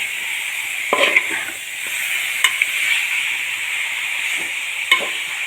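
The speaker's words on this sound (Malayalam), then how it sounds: "ചിക്കനെല്ലാം ചേർത്ത് കൊടുത്തിട്ടുണ്ട് നന്നായിട്ടൊന്ന് ഇളക്കി നമുക്ക് യോജിപ്പിച്ച് കൊടുക്കാം" Chicken with masala is stirred in a frying pan for nadan chicken thoran over a steady close hiss of frying, with a few sharp scrapes and knocks of the spoon against the pan and no voices.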